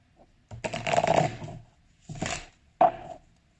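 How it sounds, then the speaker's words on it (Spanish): A deck of playing cards being shuffled at close range, with a long riffle followed by two shorter bursts of shuffling, separated by brief pauses in an otherwise quiet room. "Ahora voy a barajar."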